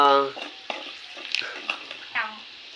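Radish drops into a hot tempering and frying sizzle and stirring noises follow, short scraping bursts over a low hiss, with a brief voice at the start and again later.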